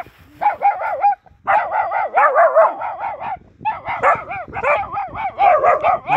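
Hungry stray puppies bark and yip repeatedly while being fed, high-pitched, close and loud, in quick overlapping bursts with brief pauses.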